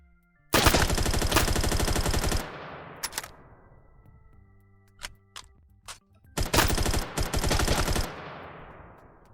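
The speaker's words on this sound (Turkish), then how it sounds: "Çok fazla kişi olunca hepsi birden sıkıyor." Rapid machine gunfire in a video game, two long loud bursts of rattling shots separated by a few scattered single shots and clicks, close and punchy with nothing else heard.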